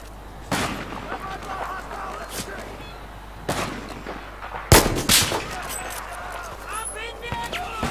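Gunfire in the video game Battlefield 4: a few sharp shots spaced apart, including a louder close pair near the middle, over a steady background hum.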